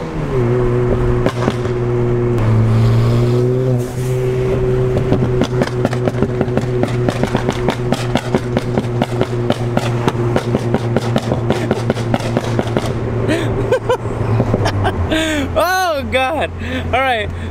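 A modified 2016 Ford Fiesta ST with a loud 1.6 engine and exhaust drones steadily up close, then revs sharply in quick bursts near the end, with voices talking over it.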